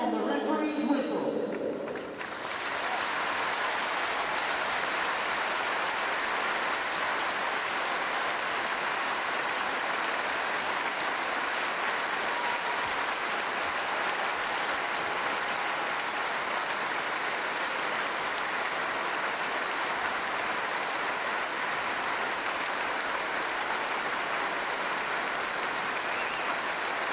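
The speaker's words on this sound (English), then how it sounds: "Please join us in a 30-second moment of applause that will end on the referee's whistle." A large stadium crowd at a England v Ireland women's Six Nations rugby match applauds steadily and loudly, a dense wash of clapping that holds without pause for the whole stretch.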